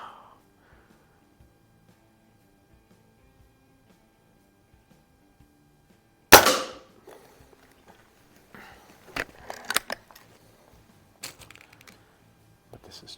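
A Feinwerkbau 124 spring air rifle fires once at a range with a sharp, loud crack, followed by quieter clicks and handling sounds from reloading.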